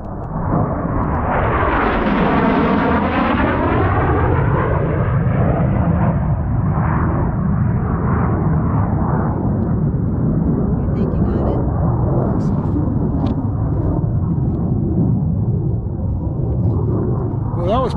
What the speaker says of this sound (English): here comes a jet.